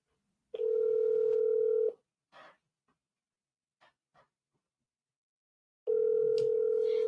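Steady telephone dial tone heard in two long stretches during an office cold-calling session, with brief faint clicks and small noises in the quiet gap between them.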